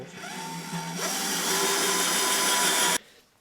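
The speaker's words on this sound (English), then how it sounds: "This drill." A power drill whirs up to speed and runs with a steady high-pitched motor whine for a couple of seconds, then stops abruptly, close by.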